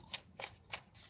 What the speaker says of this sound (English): as soon as I finish shuffling these cards up